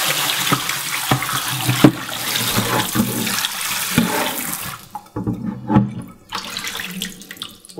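Steady rush of tap water running into a sink, splashing and gurgling, with brief breaks and clatter as beef short ribs are rinsed under the flow.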